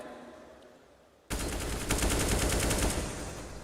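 Automatic rifle fire shooting through a wall on the Inferno map in Counter-Strike during a PGL Major Kraków 2017 semi-final, a loud sudden burst of rapid gunshots after a quieter stretch, sustained to the end.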